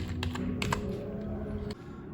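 Keys clacking on a USB computer keyboard, a handful of crisp taps spaced irregularly over a steady low electrical hum, close and fairly clear, with no voices.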